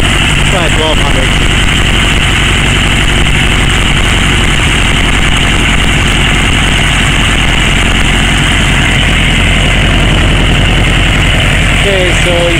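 Kawasaki KZ900 motorcycle idling at about 1500 RPM, a loud, close, even engine drone that holds steady throughout, with someone speaking over it.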